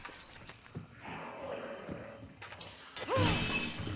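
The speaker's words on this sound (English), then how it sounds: "It's me breaking glass, by the way." Glass breaking in the video game Hunt: Showdown, a sharp loud shatter near the end following a quieter stretch of game ambience with a brief swoosh.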